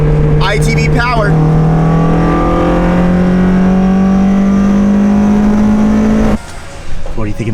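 A car engine with individual throttle bodies revs hard and holds a rising, droning note for several seconds, loud and close, then drops off abruptly as the throttle closes.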